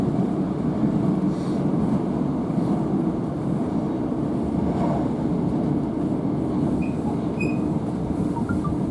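A Northern train runs on rails between Hazel Grove and Furness Vale, heard from on board as a constant loud rumble and rattle of wheels with a few faint high squeals.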